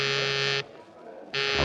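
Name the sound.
call buzzer sound effect in old-time radio drama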